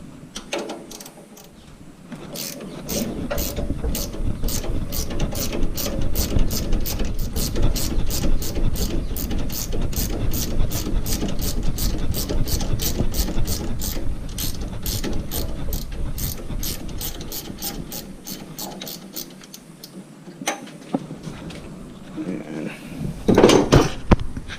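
A hand ratchet clicks rapidly and evenly, loosening the top nut of a Bilstein strut on a Toyota; a long steady run of close, sharp pawl ticks is framed by brief pauses at start and end.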